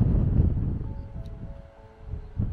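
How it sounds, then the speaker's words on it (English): Strong wind buffets the microphone on an open Dartmoor moor near Sheepstor during a summer storm, a low continuous rumble that swells and eases, with a faint tonal hum partway through. "it's very windy as well, as you can probably hear"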